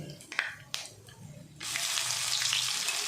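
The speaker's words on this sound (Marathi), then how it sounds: "एक चमचा मोहरी जिरे मोहरी चांगली खुलू द्यायची आहे" Mustard and cumin seeds hit hot oil and break into a loud, steady sizzle after a few soft clinks of utensils.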